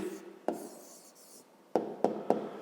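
A pen writes an answer by hand on paper for a fifth-grade math exercise, close faint scratching strokes with several sharp taps spaced through the moment.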